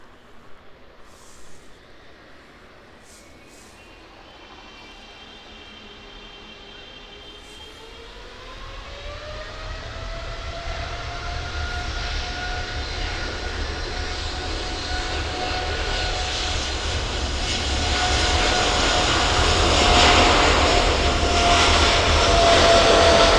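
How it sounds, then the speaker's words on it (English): A Boeing 777 jet lines up on the runway at East Midlands Airport and begins its takeoff, engines spooling from a whine into a steadily building, loud roar that dominates to the end. "So the 777 then lining up,"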